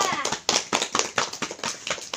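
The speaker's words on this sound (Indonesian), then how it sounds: "tepuk tangan dulu buat kawannya" Classmates clapping for their peers in a classroom: a short, uneven burst of hand claps from a small group, close and distinct, each clap sharply separated over about two seconds.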